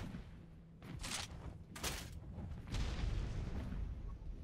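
Rocket launcher rockets exploding on an ARK PvP server, several booming blasts in quick succession, with two sharp bursts followed by a longer rumbling explosion, moderately distant and without talking.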